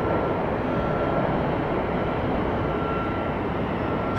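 Alaska Airlines Boeing 737 jet passing overhead at Atlanta, a steady broad engine roar that holds constant and fairly loud throughout with a faint high whine on top.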